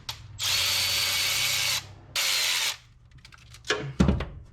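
A 10 mm power tool whirs in two long sustained bursts while removing the carburetor base studs on a truck, followed by short ratcheting clicks and a sharp metallic clatter near the end.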